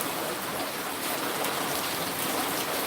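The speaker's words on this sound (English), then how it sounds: "this storm is sitting basically right on our mountain" Steady, dense rain pours down as a storm sits over a mountain, a loud continuous hiss of drops on surfaces with no pauses or breaks.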